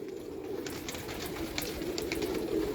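Pigeons coo softly and repeatedly on a rooftop in Sialkot over a steady low background hum, with a few faint chirps mixed in.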